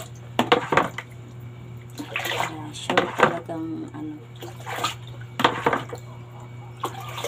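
Water splashing and sloshing in a basin as white laundry is rinsed by hand in the early morning, in irregular bursts over a steady low hum, with a person speaking briefly.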